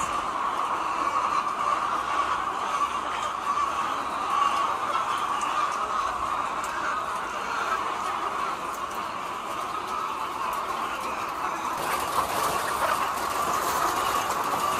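Constant dense clucking and murmuring from a large flock of laying hens inside a long egg poultry house, a steady broad hubbub with no pauses and no talk.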